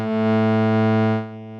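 A sustained synth tone through the distortion effect of Synthmaster 2.9, a buzzing, harmonically rich note held steadily for over a second before dropping quieter and duller at the end.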